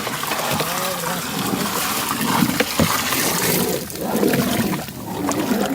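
Vegetable stock pours and splashes steadily into a pot, a continuous sloshing gush with no pauses.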